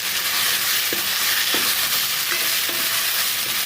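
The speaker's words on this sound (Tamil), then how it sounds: "இப்போ நல்லா கிண்டி விட்டுக்கலாம்." Ginger garlic paste fries in a pan with a steady bright sizzle while a spoon stirs it, scraping and tapping the pan a few times.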